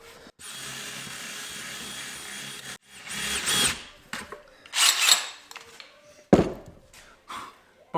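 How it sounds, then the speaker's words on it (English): Cordless power drill running steadily for a couple of seconds while driving into wood during a van upper-cabinet build, followed by shorter bursts, rubbing and clunks of handling, close and loud. "I've already got it attached to the drill."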